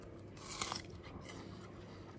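A single crisp, close crunch as teeth bite into a fragrant pear, followed by quieter chewing in an otherwise hushed setting.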